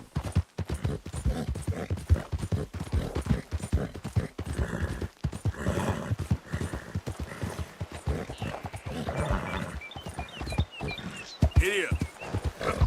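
A horse gallops in a video game, its quick, uneven hoofbeats pounding close under lively talk from a player, with scattered game effects and a possible neigh near the end.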